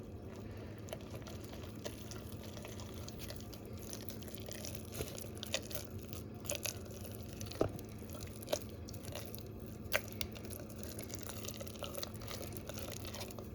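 Quiet scraping and clinking of a utensil stirring a thick mixture of 120 grams of flour and 120 millilitres of water in a glass jar for a sourdough starter, with small irregular taps against the glass.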